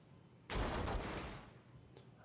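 A heavy thud as a bed is ripped apart in the Tsukihime visual novel, arriving as one loud, sudden crash that rumbles on for about a second before fading, followed by a faint brief sound.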